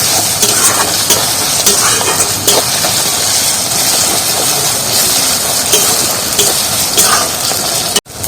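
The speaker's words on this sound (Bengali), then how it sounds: "মশলাটা একদম ভালোভাবে কষিয়ে নিচ্ছি।" Spiced masala paste for a Saluk (water lily) chicken curry sautéing in a pan, a loud, steady broadband sizzle and frying hiss with faint stirring clatter, continuous throughout and cut off abruptly at the end.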